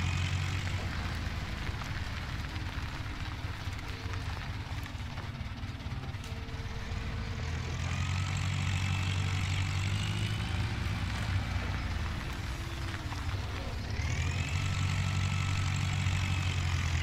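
A tractor with a bale blower hums steadily in Farming Simulator 17, its droning engine rising in pitch and volume twice as it revs, with a continuous mechanical whine underneath.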